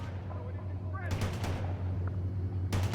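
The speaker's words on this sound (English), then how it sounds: "Now left-click on the Humvee to launch a tow missile at it." TOW missile launch and gunfire in the World in Conflict war game: a burst of rapid shots and a sharp blast ring out over a steady low engine hum, with a spoken voice-line now and then.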